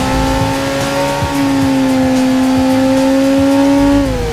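A motorcycle engine in the Dreamcast game Headhunter drones loudly at a steady, nearly constant pitch, then dips slightly at the end, with faint road-traffic noise beneath and no speech.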